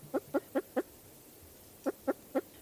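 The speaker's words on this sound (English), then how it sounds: "kind of quiet, like cooing or clucking sound. Not quite like a chicken." A spruce grouse gives soft, sweet clucking coos, a run of four evenly spaced notes, a pause, then three more, close and clear over quiet forest background.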